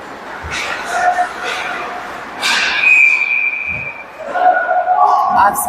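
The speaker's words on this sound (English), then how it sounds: "Offsides is the whistle." At an ice hockey game, a referee blows a whistle for offsides: one sustained, shrill blast in the middle, over crowd noise and voices from the rink.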